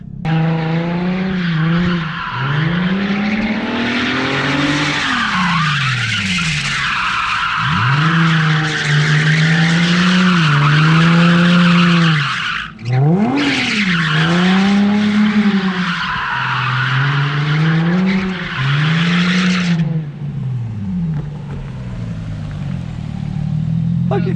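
A Nissan 350Z drifts around a parking lot, tires squealing loudly and continuously with rising and falling engine revs through repeated slides and transitions, the engine note close and dominant throughout.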